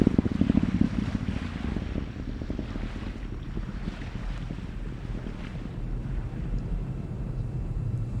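Falcon 9 Block 5 first-stage engines firing during the Crew Dragon Crew-2 launch, heard as a steady, distant low roar with wind buffeting on the microphone, continuous and even with no voices over it.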